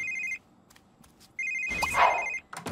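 A phone rings in The Sims 3 video game, two bursts of an electronic trilling ringtone separated by a short pause, clear and close, with a brief rustle of other game sound near the end.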